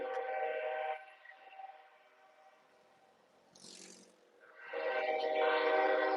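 A train horn blares loudly, fades into rumbling rail noise with a brief hiss, then the horn sounds again, strong and near.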